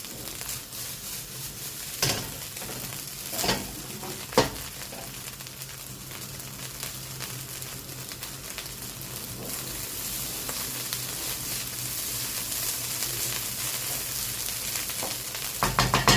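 Egg fried rice sizzles steadily in a pan for the whole stretch, with a few sharp scraping knocks of stirring near the start and a louder burst of frying toward the end; no one speaks.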